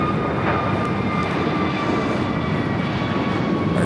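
A United jet airliner takes off from runway 25 Right at LAX, its engines giving a steady, broad, loud roar with a faint whine riding on top, heard at a distance.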